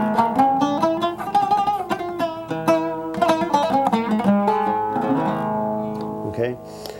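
An oud plays a Middle Eastern melody, Mizulu, as plucked notes in quick runs and repeated phrases, ringing clearly and alone at close range.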